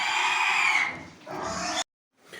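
Loud, close pig grunts and squeals from piglets on a small farm in two bursts, then a brief silence before another faint grunt starts.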